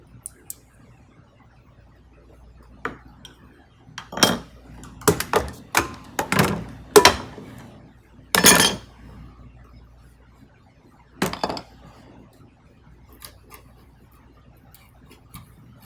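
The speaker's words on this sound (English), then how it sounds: "So I'm just making a chopping cut down close to that line" Sharp wooden knocks from a chisel chopping into wood, a quick irregular run of strikes in the middle, then a few isolated taps; close and dry.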